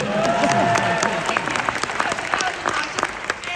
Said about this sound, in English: I'll wait for applause